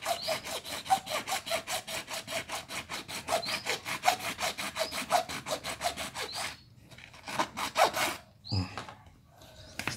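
Rapid, steady back-and-forth strokes of a hand saw cut through a hydraulic ram pump valve body, a close rasping rhythm that pauses, then resumes with a few slower strokes.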